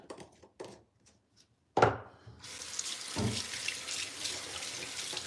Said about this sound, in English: Now I can just rinse off the glove.